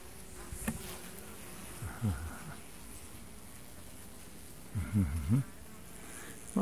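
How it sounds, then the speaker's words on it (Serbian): Honeybees buzz around an open hive while queens are being marked, a steady insect hum throughout with several closer, louder passes of individual bees flying near. "Malo ima više pčele"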